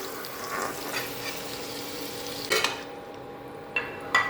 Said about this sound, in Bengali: এবার আমি সবুজ ক্যাপসিকাম আর লাল ক্যাপসিকামটা একটু ভেজে তুলে নেব।